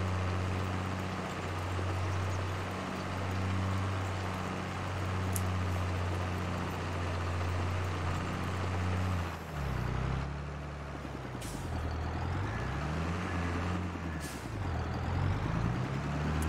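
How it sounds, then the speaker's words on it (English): A tractor engine in Farming Simulator 22 runs with a steady low droning hum that shifts pitch midway as the revs rise and fall, accompanied by a few sharp clanks, loud and close with no talk. "I swear I keep hearing a helicopter, but I know it's just the tractor now."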